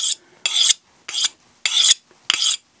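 A knife blade is rubbed along a WorkSharp ceramic sharpening rod in five quick, even rasping strokes, each a crisp, close scrape with short silent gaps between.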